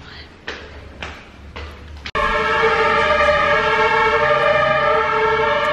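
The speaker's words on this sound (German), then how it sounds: "Hier sind locker jetzt 7, 8, 9, keine Ahnung, Tatütata Autos lang gefahren. Boah, war das laut." A loud, steady siren wail with layered harmonic tones comes in abruptly after a couple of seconds of traffic noise, with several emergency vehicles passing close by.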